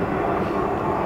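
An airplane flies overhead outdoors, a steady broad engine roar that stays loud and continuous throughout the short stretch with no breaks, heard alone with no talking.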